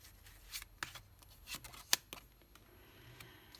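Tarot cards are drawn and laid out one by one: a quiet series of soft, irregular snaps and flicks, each a short sharp card sound, close by and sparse, with no one speaking.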